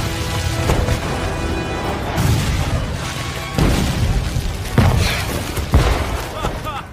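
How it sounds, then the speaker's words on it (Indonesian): Cannon fire in a film sounds out as a series of heavy booms and crashing blasts at irregular intervals over a dense, loud battle din, with a voice speaking over it. "Di tengah ledakan meriam,"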